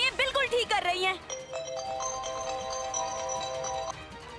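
A telephone rings with a bright, repeating electronic tone that holds steady for several seconds, after a brief stretch of quieter tonal chatter at the start.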